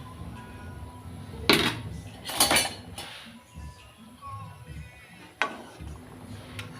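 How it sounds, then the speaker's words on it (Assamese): A utensil scrapes and clinks against a pan as eggs are stirred into boiled potato curry, with a few louder metallic knocks between quieter scraping. "এতিয়া মই কণীকেইটা দি দিছোঁ আৰু কণীকেইটা দি অকণমান সময় লৰাই দিলোঁ।"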